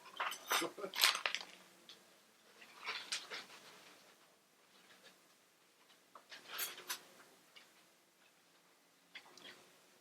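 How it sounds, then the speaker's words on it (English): Barrels of cutlery moved at a karting track, giving rattling, clinking metal clatter in several bursts with lighter ticking between them, heard from a short distance. "Barrels of cutlery being moved at the moment."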